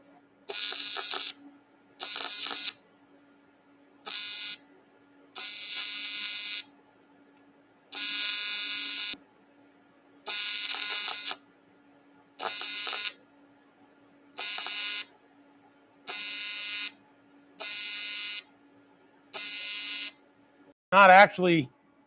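A welder lays tack welds on cast aluminum with filler rod, producing about eleven separate buzzing arc bursts of one to two seconds each with quiet gaps between them. A short voice-like sound comes at the very end.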